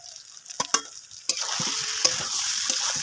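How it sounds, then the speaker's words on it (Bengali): Mutton and fried potatoes are stir-fried in a pan for a Bengali mutton curry, with a few knocks of a spatula at first, then a steady close sizzle and scraping stirs. "আলু দিয়ে মাংসটাকে কষিয়ে নেব"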